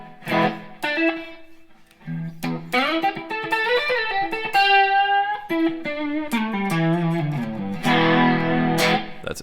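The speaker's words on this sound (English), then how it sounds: "Now we can go to the overdrive presets, and we have 4 different ones here as well." Enya Sonic electric guitar played through an overdrive preset, a loud distorted run of sustained chords and single notes with brief pauses, no talking.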